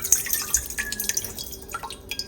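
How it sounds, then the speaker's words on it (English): Lukewarm tap water pours into a stand mixer bowl in a home kitchen while sourdough brioche sandwich bread is being mixed, giving a brief, soft dripping and trickling splash close by. "that is about 125 grams of just lukewarm tap water, and that's gonna go straight into the mixer"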